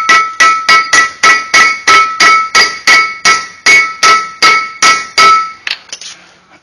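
Hammer taps on Mercedes Sprinter front brake pads, about fifteen sharp metallic strikes in a steady, even rhythm, close and loud, with ringing overtones, then a few lighter taps trailing off.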